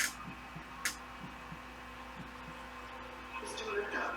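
Soft, regular low thumps of a heartbeat pulse steadily beneath a faint hum, with a brief brighter noise near the end.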